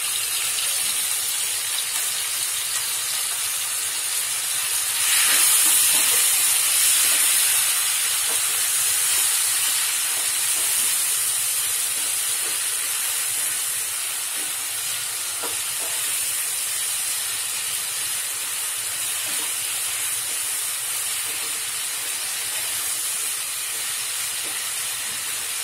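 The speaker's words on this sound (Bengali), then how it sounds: "মাছটা ভালো করে আমি কষিয়ে নেব।" Shrimp with spices sizzling in a hot pan, a steady loud frying hiss throughout, swelling briefly near the start as the fish goes in, with no talk.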